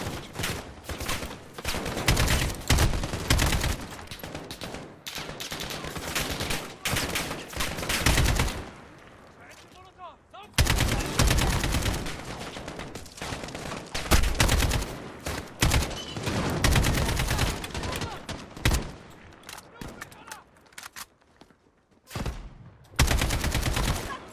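Intense gunfire and mortar blasts in the Call of Duty Modern Warfare video game, with dense bursts of automatic fire and loud impacts broken by brief lulls, continuing for the whole stretch with occasional voices.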